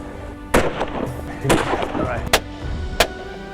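Four sharp gunshots aimed at baboons crack out one by one at uneven intervals, loud and fairly close, with a voice talking in the background.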